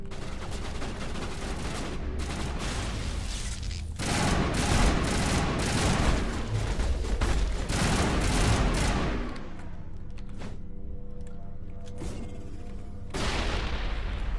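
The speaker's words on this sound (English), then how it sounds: "What are you two firing at?" Gunfire from the video game Mass Effect 1, a dense sustained fusillade of rapid shots and booms that eases briefly before resuming, loud and continuous without talk.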